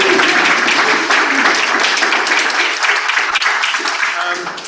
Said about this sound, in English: can we have a big round of applause for our new mayor?